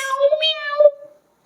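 A child imitates a cat during a family animal-sounds game, a single drawn-out meow-like call made by voice, close and clear, trailing off into silence.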